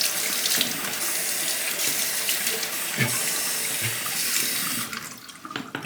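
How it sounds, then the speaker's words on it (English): A water tap runs steadily over a straight razor blade, a loud continuous splashing rush that thins out near the end as the flow changes. "Gonna run it under water real quick."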